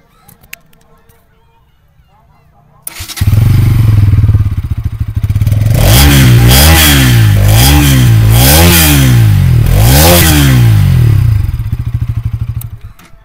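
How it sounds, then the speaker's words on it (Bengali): A Bajaj Pulsar NS 200 motorcycle starts up, idles with a loud, close exhaust burble, then revs repeatedly in rising and falling surges before settling back to idle. "তুই এক্সস্ট সাউন্ডটা শুনিয়ে দে"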